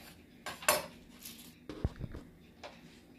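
A knife cuts through a medium-large cabbage into chunky pieces on a board, giving a few separate knocks and crunches with quiet kitchen clatter in between.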